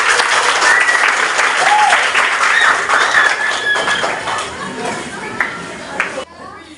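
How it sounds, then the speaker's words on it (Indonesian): Students in an Indonesian-language classroom applaud together in a loud, dense burst that gradually fades, with children's voices chattering through the clapping. "Oke, tepuk tangan."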